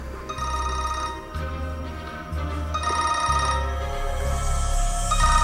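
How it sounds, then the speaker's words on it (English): A cell phone rings in repeated electronic bursts with short gaps between them, clear and fairly loud in an indoor scene from a TV drama. "Come on, your other cell phone's ringing."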